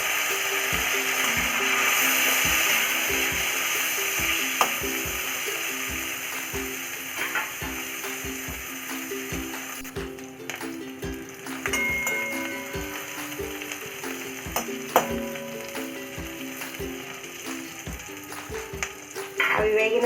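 Green chillies and curry leaves sizzle steadily in hot oil in a pan for a drumstick masala curry, with repeated rhythmic scraping and stirring clicks from a spoon running throughout.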